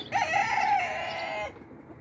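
A rooster in a backyard chicken run gives one clear, fairly close crow that lasts about a second and a half before cutting off, with no other sounds around it.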